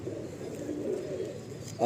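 A large male Nazra Kaldom pigeon in a loft gives a soft, low, continuous cooing at close range, with a slight swell near the end.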